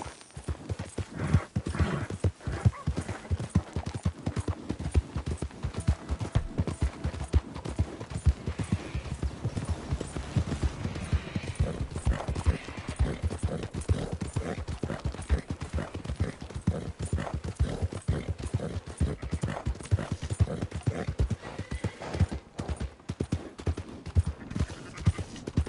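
Horse hooves clip-clop at a steady gallop in a PS4 video game, a dense, continuous run of hoofbeats with an occasional whinny and faint speech underneath.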